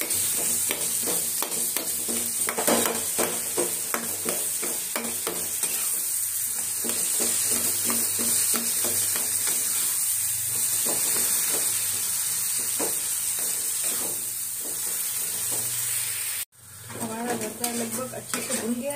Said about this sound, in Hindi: तो हम उसमें ही डाल देंगे अपने बैगन जो हमने बॉईल करे थे। भून करके मिक्स कर लेंगे।